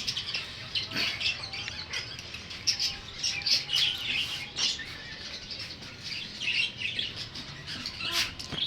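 A collection of pet birds, including parakeets, budgerigars and lovebirds, chirps, tweets and squawks in a busy overlapping chorus, with occasional wing flutters, steady and close throughout.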